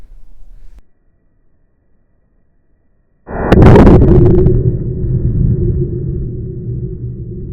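A .50 caliber rifle shot strikes a beet outdoors: a sudden loud, close blast after a quiet pause, followed by a long rumbling echo that fades slowly.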